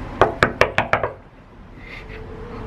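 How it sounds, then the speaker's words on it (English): Five sharp knocks on a house door in a quick, evenly spaced run, close and loud, followed by quiet room tone with faint distant sound. "I'm getting over my fear and knocking on the door."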